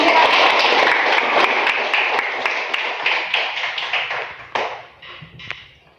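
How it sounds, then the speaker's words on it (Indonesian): Classroom hand clapping, a group of students clapping in a loose rhythm of sharp close claps that thins out and trails off toward the end. "Tepuk tangan."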